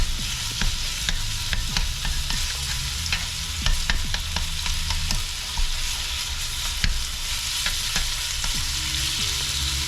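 Pork sizzles in olive oil in a pan for egg rolls, a steady close frying hiss broken by repeated clicks and scrapes of a utensil stirring the meat, with no talking.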